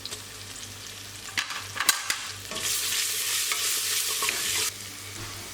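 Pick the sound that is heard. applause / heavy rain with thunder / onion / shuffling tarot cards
onion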